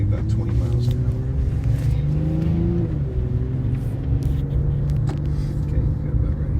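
A BMW car accelerates on an autocross course, its engine note steady and rising slightly as it builds speed, a continuous close rumble throughout with an instructor talking over it.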